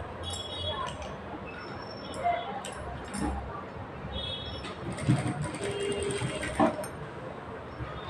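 A sewing machine stitches piping around a high blouse neckline with a faint mechanical whir and scattered clinks, while someone talks over much of it.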